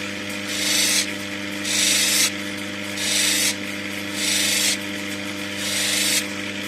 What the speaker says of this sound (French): Je vais gratter ici pour être plus droit